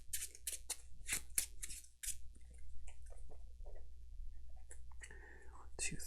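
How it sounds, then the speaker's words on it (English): A deck of Arkham Horror card game cards is shuffled close by. Quick crisp card snaps come first, followed by softer shuffling and riffling, with quiet voices murmuring in the background. "I'm just going to give it another shuffle"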